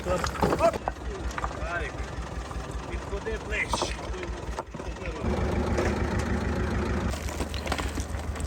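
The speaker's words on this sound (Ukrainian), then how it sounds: "І ось цим тракторцем перевозимо піддони на площадку" A small tractor engine runs nearby with a steady low chugging idle that gets slightly louder partway through, while people talk over it.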